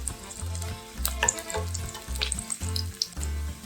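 Garlic fries in oil in a pan for a quick pizza sauce, giving a soft, steady sizzle with occasional crackles. A rhythmic low thumping runs faintly underneath, and no one speaks.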